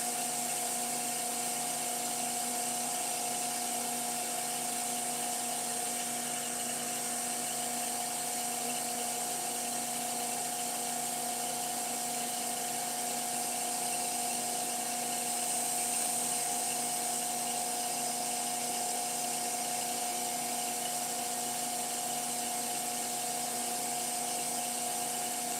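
A woodturning lathe spins a wooden top at high speed while abrasive paste is applied, giving a steady, continuous high-pitched whine with a constant tone that holds unbroken throughout, close and alone with no talk.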